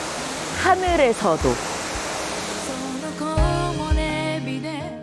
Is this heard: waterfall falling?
yes